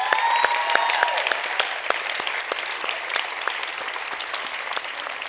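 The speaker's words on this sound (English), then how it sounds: "So let's first give a round of applause to our English teachers" A school audience applauds English teachers at a student event, with steady, dense clapping from many hands running throughout, moderately loud and sustained without talk.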